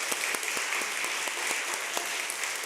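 A congregation applauds during a Sunday second service at a Korean Presbyterian church in Detroit. The even, continuous clapping is moderately close and sustained throughout, with no talk over it.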